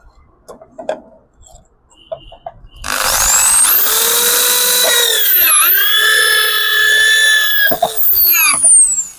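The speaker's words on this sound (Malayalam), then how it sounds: "ഇതിപ്പോൾ ഹൈലം ഷീറ്റിൽ നമുക്കൊന്നൊരു ഹോൾ ഇട്ട് നോക്കാം." A 20 mm hole saw bores through hylam sheet, starting abruptly with a loud, steady high-pitched whine and grinding that holds for about five seconds, pitch dipping briefly under load, before cutting off; faint clicks and handling noises come before it.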